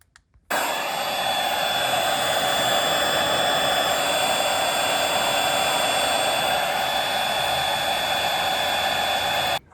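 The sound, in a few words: heat gun heating a car steering wheel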